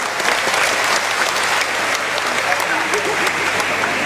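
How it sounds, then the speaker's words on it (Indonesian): Congregation applauding during an Easter Mass in church, sustained loud clapping from many hands that fills the space evenly for the whole stretch, with voices mixed faintly underneath. "tepuk tangan untuk Kristus ya"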